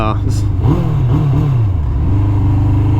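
A Suzuki Hayabusa motorcycle engine revs close by with a deep, muscular rumble that rises and falls in pitch, while someone talks over it throughout.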